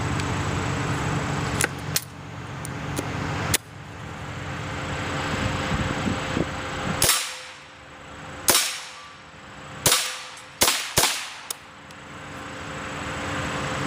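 Sharp, loud gunshots from a firearm loaded with Remington Yellow Jacket rounds, one isolated report followed later by a cluster of cracks, each with a short decaying echo, over steady background hum.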